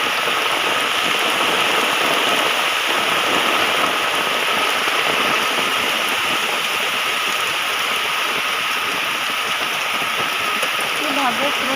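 Rain falls steadily on a courtyard, a dense, even hiss of drops on wet ground and pooled water that stays close and constant throughout.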